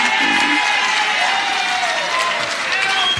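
Audience applause and some cheering at an amateur football club medal night at Belmont 16 Footers, a loud, continuous crowd clapping with faint voices and a few whoops mixed in.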